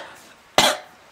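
A single sharp cough from a child, loud and close, standing out against a quiet room.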